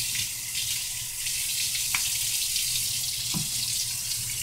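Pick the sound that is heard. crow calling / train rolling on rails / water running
water running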